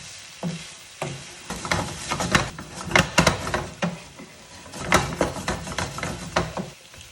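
Vegetable bhaji stir-fry sizzling loudly in a pan while a utensil stirs and scrapes through it, with irregular clacks and bursts of frying over a constant hiss.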